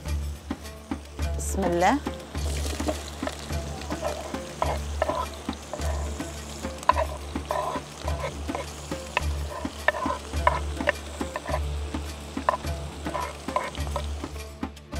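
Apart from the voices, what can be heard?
onion frying with meat in pan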